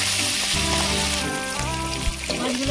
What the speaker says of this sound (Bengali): তেল গরম হয়ে গেছে, বাটা মাছগুলো ভেজে নেব।